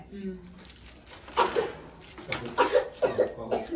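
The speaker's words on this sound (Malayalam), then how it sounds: "അതിന്റെ ഇടയിൽ എന്തിനൊരു ചുമ." A few short coughs close by, a quick burst followed by a couple more, with quiet room sound between them.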